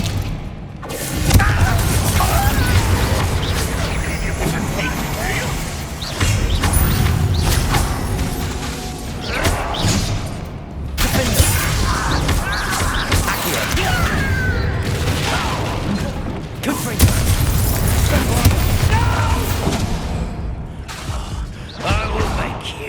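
Bombarda spell blasts in the Hogwarts Legacy video game, heard as a string of heavy booms and crashing impacts amid busy combat clatter, recurring every few seconds with a voice now and then.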